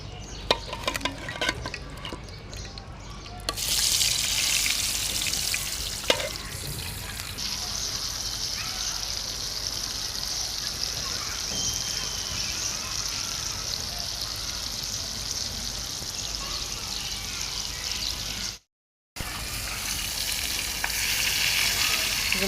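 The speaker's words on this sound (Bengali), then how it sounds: "এখন মাছগুলো দিয়ে দিব।" Rohu fish pieces rubbed with spices and salt sizzle steadily in hot oil in a frying pan, a loud continuous hiss with occasional stirring and spatter, briefly cut off near the end.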